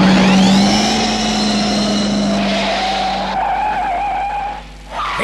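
A remote-controlled DeLorean car skids with a loud, sustained tire squeal over a steady engine drone, fading slightly toward the end, staged as part of an audio drama.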